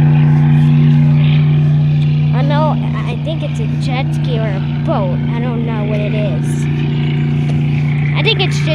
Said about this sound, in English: I think it's a jet ski or a boat.